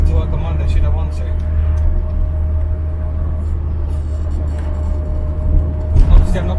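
Austin Allegro on a Sunday drive, steady low engine drone and road rumble heard from inside the cabin, with a brief louder surge near the end.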